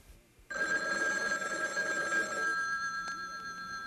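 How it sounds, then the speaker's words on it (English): A telephone bell rings steadily and loudly after a brief quiet start, one sustained ring with a bright metallic tone continuing to the end, with no talk over it. "Telephones ring when someone's trying to reach you."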